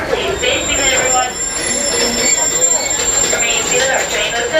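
A Walt Disney World Railroad train rolls into a station, its wheels squealing and steel rumbling steadily under a continuous high whine, while a voice speaks over the ride.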